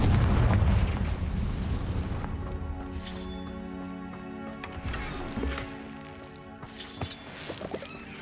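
A Confringo spell blast in the video game Hogwarts Legacy, booming low and loud over a tonal game score with a few sharper bursts following, no talking.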